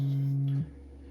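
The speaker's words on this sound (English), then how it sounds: "sine wave just sounds like this" A steady, pure low synthesizer sine wave tone hums alone for about half a second, then cuts off abruptly, leaving only faint background hiss.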